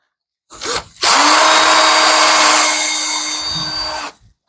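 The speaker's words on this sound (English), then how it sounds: "so we're going to drill our center out" A power drill with a 3/16-inch bit boring out a center whirs at a steady high speed for about three seconds after a brief start-up, loud and close, then stops abruptly.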